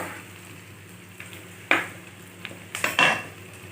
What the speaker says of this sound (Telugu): ఆనియన్స్ కొంచెం వేగినాయి కదా